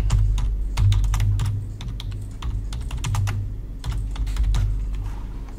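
Fast typing on a computer keyboard, a dense run of crisp key clicks in uneven bursts with brief pauses, close and clear over a low background hum.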